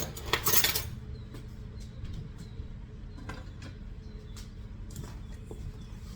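Banana muffin ingredients are stirred together in a bowl, with a utensil scraping and clinking against the sides in soft irregular knocks, after an opening burst of rustling, all quiet and close.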